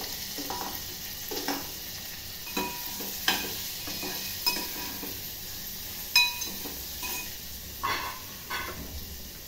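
Onion, ginger and garlic fry in a pan with a steady sizzle, while a spoon scrapes and stirs every second or so with light clinks. No one talks.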